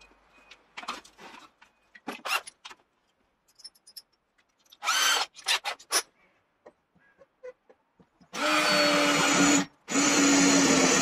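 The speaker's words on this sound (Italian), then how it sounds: "Sono già portato sul trapano" Short, scattered bursts of a power drill boring holes for a solar panel mounting structure give way to two long, loud drilling runs with a brief pause between them. No one speaks.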